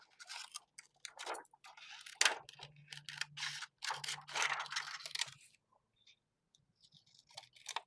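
Scissors snip and crunch through a small arch-shaped piece of craft foam, giving a series of soft, close clicks and scrapes with pauses between cuts; no voices.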